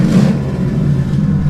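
A car engine revving loudly up close, a throaty rumble with a fluttering, chattering quality as the turbo releases through a DIY flutter mod.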